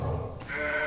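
A short, close, loud goat bleat from a goat card in the Legends of Runeterra card game, a single wavering cry heard over game sound effects.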